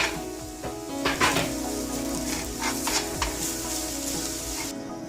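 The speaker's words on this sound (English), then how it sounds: "Now I'll be adding lots of finely chopped coriander leaves and mix it in." Chopped coriander is stirred into a cooked potato sandwich filling in a pan on a switched-off stove, giving steady scraping and clinking of a utensil against the pan with a faint residual sizzle underneath.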